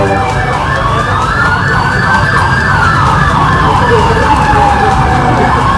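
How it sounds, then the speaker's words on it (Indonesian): A loud ambulance siren wails, sweeping up and down continuously, close and steady, filling the whole stretch with a constant rumbling roadside background in Bekasi. "tunggu ambulan"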